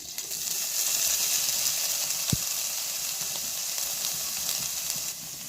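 Paneer fries in ghee in a wok with nigella seeds, sugar and salt: a continuous close sizzle with a sharp clink partway through and faint stirring, no talk.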